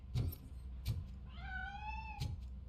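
A cat in RoboCop: Rogue City lets out one drawn-out, rising then falling meow, close and clear, set among a few sharp thumps and clatters.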